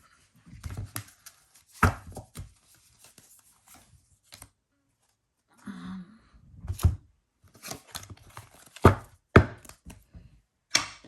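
Intermittent papery rustles and sharp taps of tarot cards being shuffled and handled, close by, in short bursts separated by quiet pauses.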